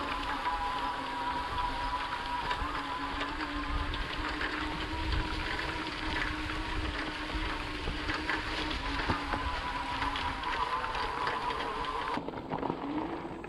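A Magicycle Deer SUV e-bike ridden outdoors with a steady motor whine and constant wind rush that continues unbroken before cutting off near the end.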